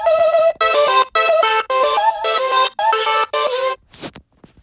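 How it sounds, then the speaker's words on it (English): A vocal chop in a song made in GarageBand: short, bright, pitched vocal stabs in a choppy rhythm with clean gaps between them. A faint breathy tail closes it. "but like, this is the vocal chop."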